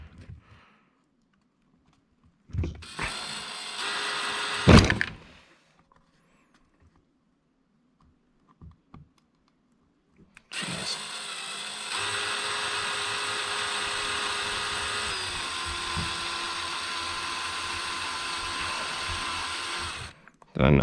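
A power driver sets screws into an X-Maxx Xtreme Racing battery tray: a short whirring burst, a quiet gap with small clicks, then one long steady drive of about ten seconds ending in a sharp stop.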